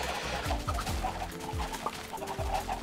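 Chickens in the Minecraft video game, repeated low clucks in an irregular rhythm over a steady background hum, with no talking.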